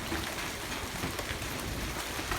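Hail falls steadily during a strong thunderstorm in Fresno, a dense, constant patter and hiss with no break, filling the whole clip.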